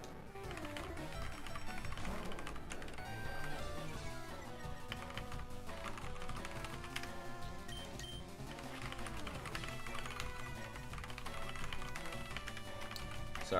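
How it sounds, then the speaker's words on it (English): Computer keyboard keys clatter in quick irregular taps, close and fairly quiet, throughout a live game-playing session, with music playing underneath. "I'm sure you're hearing my keyboard"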